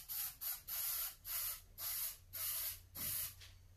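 An aerosol can sprays in six short hissing bursts, close by, separated by brief pauses in an even rhythm.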